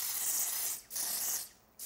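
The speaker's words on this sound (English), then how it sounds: "I spray it close to my face. I don't spray it far because it just gets everywhere." Dior Air Flash foundation sprayed close to the face, two loud, steady hissing bursts of airbrush mist with a brief pause between them.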